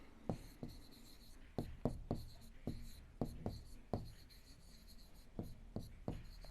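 Pen or chalk writing out a geometry answer, a series of quick scratchy strokes in irregular bursts, close and fairly quiet, with faint whispery room sound between strokes.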